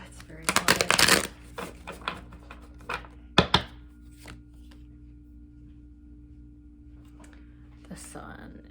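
Tarot cards being shuffled by hand, close and crisp, with two riffling bursts near the start and a shorter one midway, then quiet handling. Soft whispered speech is heard faintly.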